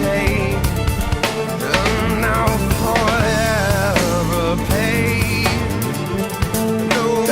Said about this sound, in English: Growling bass.